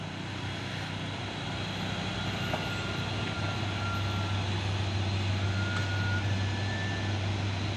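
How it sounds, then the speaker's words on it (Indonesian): Trucks crawl up a busy hill on a road in Indonesia, producing a steady low engine drone and rumble with faint beeping tones over it, continuous and moderately distant, with no talking. "Terpantau rame lagi kendaraan yang akan mau menanjak ini"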